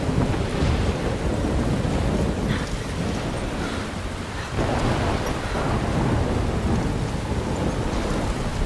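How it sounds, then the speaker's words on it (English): Steady thunderstorm with heavy rain in the video game Life is Strange, a dense continuous wash of downpour with low rolling thunder rumbles throughout, no voices. "I'm trapped in a storm?"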